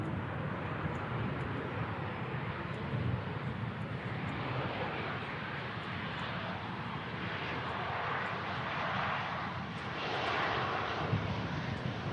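Jet engines of an aging 14-year-old Boeing 737 airliner at Manchester Airport give a steady, broad roar that holds throughout, swelling slightly near the end, with no voices.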